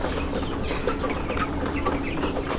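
Farm chickens cluck continuously nearby in a short, busy stretch of soft overlapping calls with no talking.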